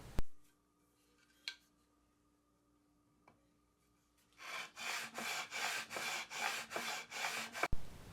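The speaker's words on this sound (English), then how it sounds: "I like to change my sanding stroke position as I'm doing this work" A wooden guitar neck being sanded by hand: eight or so steady back-and-forth rasping strokes, close and fairly loud, after a quiet stretch with a few isolated knocks.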